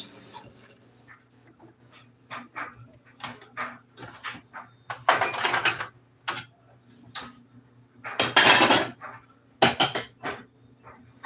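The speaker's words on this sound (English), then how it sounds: "Let me clean up these dishes." Dishes are cleaned up in a home kitchen while cooking pork chop sandwiches: a string of clinks, taps and clatters of plates, pans and cutlery, irregular and close, with louder rattling bursts and a faint hum beneath.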